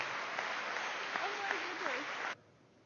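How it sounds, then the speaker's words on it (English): A dinner audience at an after-dinner mentalist performance claps in a dense, steady burst that stops abruptly after about two seconds, with a voice speaking over it. "Give her a big round of applause for her help."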